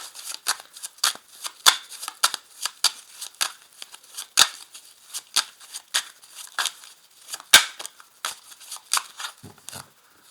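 Belline oracle cards being shuffled by hand: a series of crisp, papery riffles and flicks in irregular bursts, some sharper and louder than others, close up with no talking.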